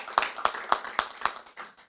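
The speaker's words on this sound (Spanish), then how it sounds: "así que un fuerte aplauso" Clapping at a cultural evening for a poetry reading, five or six sharp, evenly spaced claps ringing out close and distinct rather than a full crowd roar.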